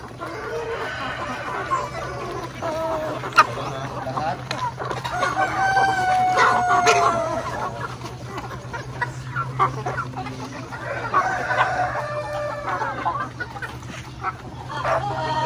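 Chickens cluck steadily on a chicken farm while a rooster crows twice, nearby and clear, over a constant low hum.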